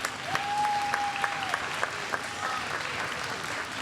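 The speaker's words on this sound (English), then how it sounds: "Let's give them a round of applause so far." An audience claps steadily at a live glassblowing demonstration by guest artist Martin Janecký, a dense patter with a few sharper claps and a brief whistle, under faint background talk.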